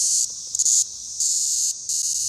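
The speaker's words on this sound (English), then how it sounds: "the cicada here" Cicadas buzz in Nashville, Tennessee, loud, close, high-pitched bursts that drone for a moment, cut off, and start again in an uneven on-off pattern.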